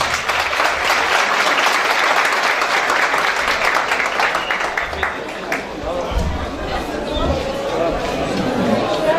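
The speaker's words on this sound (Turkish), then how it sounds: "alkışlarınızla bu kadronun başkanı Sayın Necati Karagöz'ü buraya alıyoruz" Audience applause at a village solidarity night for the Ulaş blacksmiths' village, sustained clapping filling the hall for several seconds with crowd murmur and a speaker's voice over it.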